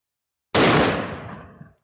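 A single loud .500 Bushwhacker gunshot fired into a block of layered denim and ballistic gel, a sharp blast with a ringing decay tailing off over about a second, with no talk.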